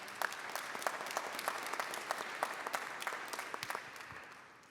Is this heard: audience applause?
yes